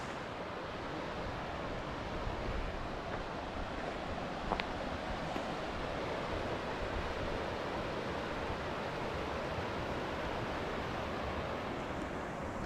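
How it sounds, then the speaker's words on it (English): A whitewater rapid river rushes below a rocky Colorado mountain trail, a steady broadband roar that stays even and fairly faint throughout, with no voices. "a beautiful whitewater rapid river below"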